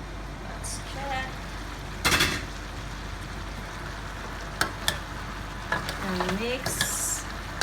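String beans with pork and Spam stirred in a frying pan, a constant close sizzle broken by spatula scrapes and knocks against the pan, with brief speech over it.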